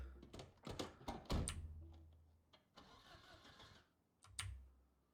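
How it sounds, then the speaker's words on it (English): In the video game Project Zomboid, a car engine with no gas and in poor condition tries to start, giving a burst of rapid cranking clicks, a short pause, then a rougher mechanical churn and a final thump, moderately close. "we can probably start this car now"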